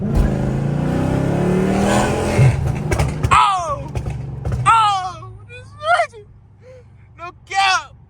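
A car engine revving up after a manual downshift, rising and falling strongly while someone talks, followed by short sharp high-pitched whistles or squeals.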